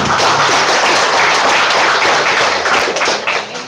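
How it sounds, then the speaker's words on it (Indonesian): An audience at a village head candidates' debate claps for one candidate, a loud, dense burst of applause that stays full for several seconds before thinning out near the end. "tepuk tangan untuk Bapak Cepat"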